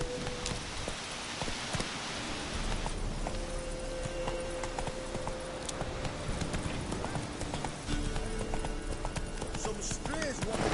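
In a video game, the horse Roach gallops with a rapid, steady clip-clop of hooves that runs throughout over a faint rain-like hiss, while voices talk over it.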